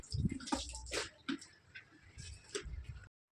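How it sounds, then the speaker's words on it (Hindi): Water splashes from a hose pipe onto a floor during washing up after laundry, an uneven run of wet splatters and drips at close range with no talking. "ये पाइप लगा होता है पानी वाला, तो मैं पानी डाल के यहाँ से अच्छे से फिर धो देती हूँ"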